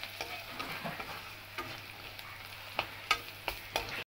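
Chicken fries in a pan with a soft, even sizzle, broken by a few scraping stirs and clinks toward the end, with no speech.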